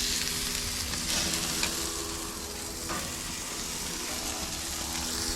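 Veal marinated in olive oil, plenty of garlic and heavy pepper sizzles on a small barbecue grill for two, a dense, continuous crackling hiss up close with no voices.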